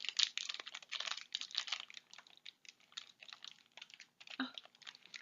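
Crinkly plastic wrapper of a Halloween snack from a Japanese snack box being struggled with, bursts of crackling and rustling close by with short pauses between tugs.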